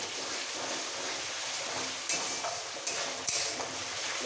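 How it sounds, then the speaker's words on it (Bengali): Spice paste, with sour yogurt just added, fries in oil for a festive katla fish curry, a continuous close sizzle with soft scraping strokes of stirring and a couple of light utensil knocks. "মশলাটা কষানো হয়ে গেছে"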